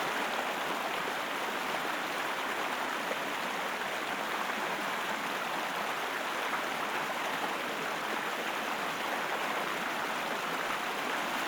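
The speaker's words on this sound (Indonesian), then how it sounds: "Suasana sungai yang dihiasi batu dan air yang bersih menjadi ketenangan pengunjung" Steady rush of a river flowing over rocks at Ulu Kungkai in Desa Arang Sapat, Seluma, a continuous broadband wash of water close by, with no voices.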